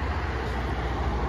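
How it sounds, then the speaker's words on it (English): Steady roar of traffic passing beside a busy road, a continuous broadband rumble with strong low-end drone and no distinct individual vehicles, loud and unbroken throughout. "You'll have to excuse the road noise. Obviously, I'm by the side of a busy road."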